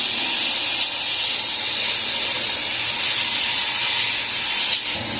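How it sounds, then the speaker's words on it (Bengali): Water poured into a hot cooking pot for thin mango sour gives a loud, steady hiss and sizzle of steam that holds unbroken for about five seconds. "এবার জল দিয়ে দিলাম।"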